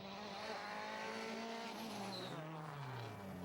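A rally car races through a tight, twisty Tour de Corse stage, its engine revving up and down loudly and continuously between gear changes, with a brief tire squeal.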